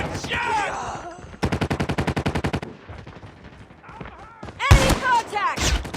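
Gunfire in Call of Duty Mobile multiplayer, with a rapid burst of shots followed by a couple of loud, sharp blasts amid game voice callouts.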